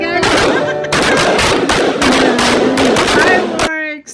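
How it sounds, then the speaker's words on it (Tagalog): Fireworks burst in dense, rapid crackling volleys at a seventeenth birthday celebration, loud and continuous for about three and a half seconds before cutting off, with excited voices talking over the blasts. "Fireworks."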